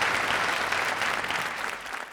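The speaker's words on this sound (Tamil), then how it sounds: "நீங்கள் உற்சாகமான கரகோஷம்" Steady audience applause at a Tamil debate-style stage event, dense and continuous clapping throughout without talk, fading slightly toward the end.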